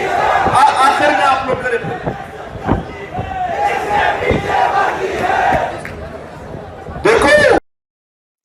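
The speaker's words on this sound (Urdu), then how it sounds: "یہ ناظرین آپ نے سن لیا، یہ لاہور میں نعرے لگے ہیں۔" Crowd at a political rally in Lahore chanting slogans together, loud and close, with a burst of shouting near the end over continuous voices.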